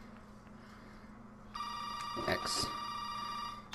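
A telephone rings in Resident Evil 7, starting partway through as a loud electronic ringing tone over a quiet background with faint speech.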